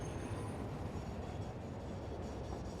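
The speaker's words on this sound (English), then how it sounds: "Oh, this train's going to hit me." A train rolls along the tracks in the Satisfactory game, a low, steady rumble with a faint high metallic whine above it and no voices.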